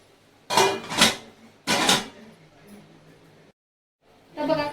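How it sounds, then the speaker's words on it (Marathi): Metal spoon scraping and clanking against a pot while khichdi is stirred, a few sharp bursts, then a brief silence and a final clatter as the lid is set on. "आता हलवून घेऊ आणि त्याच्यावरती झाकण ठेवू"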